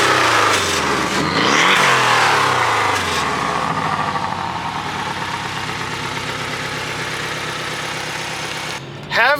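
A 2018 Porsche Boxster GTS with its 4.0 engine, starting with a rising rev then settling into a steady, close idle with a throbbing, even pulse.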